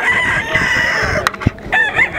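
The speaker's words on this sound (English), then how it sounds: "Make sure you get the whole rooster." A rooster at a poultry show in Hilmar, California crows close and loud among other clucking fowl, with a busy hall murmur behind and a couple of sharp knocks.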